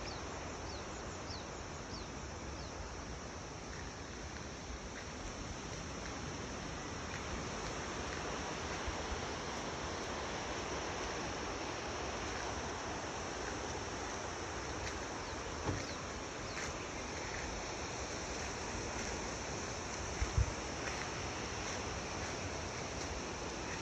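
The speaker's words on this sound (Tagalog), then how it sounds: "Ito tayo sa may ilog." River in the rural Japanese countryside flows steadily, a continuous broadband rush of water with a few faint knocks, even and unbroken throughout.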